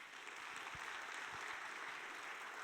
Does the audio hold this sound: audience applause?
yes